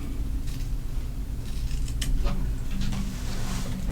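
Scissors cut through the corner of a leather pillow in a few close, crisp snips spread over a few seconds, against a low steady background hum.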